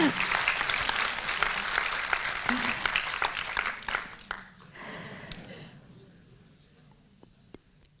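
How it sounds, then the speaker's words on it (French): Lecture audience applause for a talk on revolt and repression in communist Poland, a dense clapping burst that fades after about four seconds into a few scattered claps and quiet room sound. "On a envie d'applaudir."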